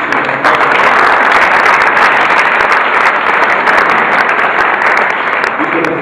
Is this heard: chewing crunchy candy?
no